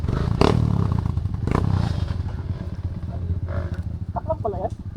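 A motorcycle engine rumbles and revs nearby on a trail in Palawan, with clattering and thumps, and a voice briefly speaks near the end.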